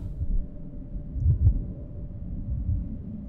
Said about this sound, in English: Oh, I did not like that heartbeat sound.